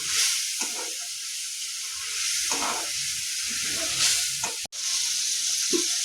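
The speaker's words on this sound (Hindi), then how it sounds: "आब एकरा मध्यम आंच पर तेल छूटै तक भूजि लिअ।" Eggplant and potato masala frying over medium heat, a continuous loud sizzle and hiss with intermittent stirring scrapes and one brief dropout, no speech.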